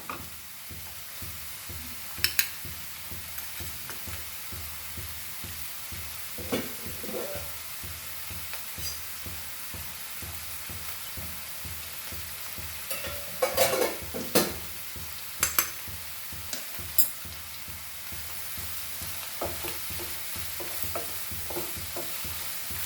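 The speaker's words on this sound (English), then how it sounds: "So we'll have to fry this Khanda, that is onion, very nicely." Chopped onion for kanda poha frying and being stirred in a pan: a steady low sizzle runs throughout, broken by occasional louder scrapes and clinks of a spoon against the pan, with no talking.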